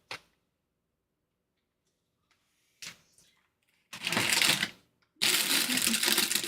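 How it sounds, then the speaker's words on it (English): Plastic packaging crinkling and rustling at close range in two loud, sustained bursts, preceded by a few brief clicks and handling noises in a quiet room. "Sorry for the crinkly noise."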